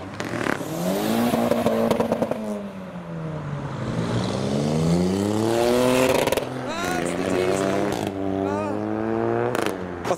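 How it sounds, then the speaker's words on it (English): Several cars, including a Seat, accelerate away one after another, engines rising in pitch through the gears, loud and close at first then fading, with people talking over them. "As cars are leaving"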